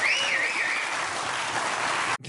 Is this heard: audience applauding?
yes